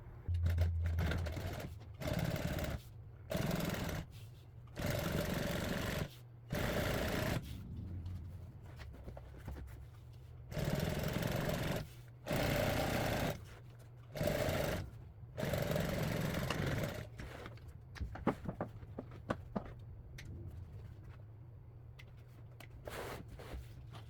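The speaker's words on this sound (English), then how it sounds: "what I just did was I just sewed on the seat hook" Sewing machine stitching a hook onto a car seat during truck and car upholstery work, running in repeated loud bursts of steady motor hum separated by short pauses, then quieter handling noises toward the end.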